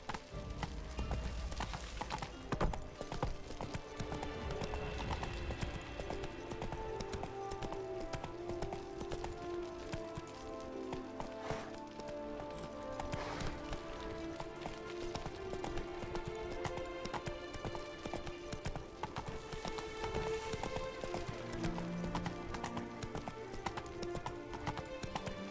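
Geralt's horse Roach trots in The Witcher 3, a steady rhythmic clip-clop of hooves continuing throughout, faint and close, layered over background game music.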